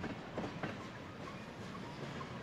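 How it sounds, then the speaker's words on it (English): A railroad train of cars hauled by an engine rumbles steadily past, with a dense continuous roar and faint rhythmic clatter of wheels, moderately distant and without talk. "the whole train was hauled away by an engine"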